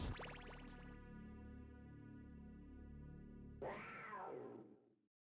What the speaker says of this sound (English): I'm kind of confused why we hear a cat